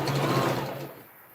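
Close, fast whirr of a sewing machine running a straight seam on a princess dart dress, a brief burst that slows and fades into near quiet within a second.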